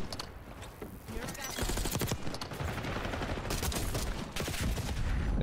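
Rapid gunfire bursts from a Black Ops 6 multiplayer match, dense overlapping shots running loud and steady throughout under occasional talk.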